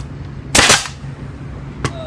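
A nail gun drives a nail into a wooden shelf piece, giving one loud, sharp pneumatic crack followed by a second, shorter bang a moment later over a low background hum.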